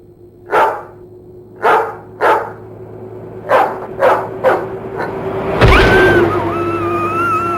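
Six sharp dog barks come in uneven pairs and singles over a steady hum, followed by a swelling whoosh and a thin rising whine, in a You Don't Know Jack video game ad.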